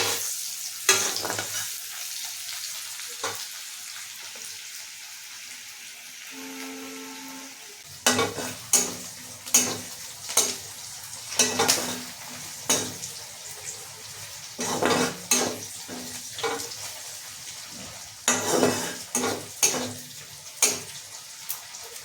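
Onions browning in a pan for a summer vegetable dish: a quiet sizzle at first, then repeated sharp scraping and clattering stirs in an uneven rhythm over a steady frying hiss, close and moderately loud.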